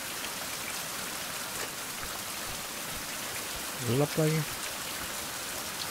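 Steady rain hiss in a survival sailing video game, broadband and constant throughout, with a brief spoken voice near the end.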